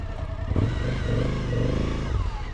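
A Suzuki GSX-R 600 motorcycle engine runs steadily close by, a dense, even drone with a slight rise in intensity partway through.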